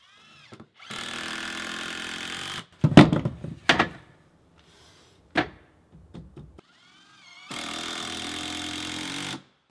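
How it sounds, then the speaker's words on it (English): A power drill runs in two sustained bursts, driving two screws into a board while installing an American Standard Americast Princeton bathtub, with knocks and handling clatter between the drill runs. "I'm just going to put 2 screws in it for now."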